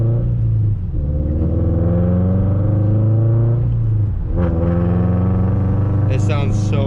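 A Subaru BRZ with a Gruppe-S UEL header idles loudly and rumbles nearby, then revs up in rising sweeps, with someone talking over the engine.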